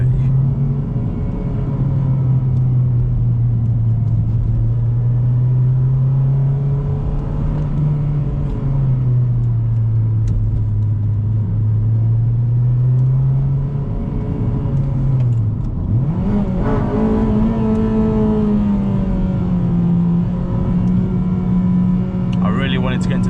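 A Honda Civic Type R FD2 engine rises and falls in steady revs, climbing sharply near the end as it pulls into VTEC, loud and close from inside the cabin, with talk over it.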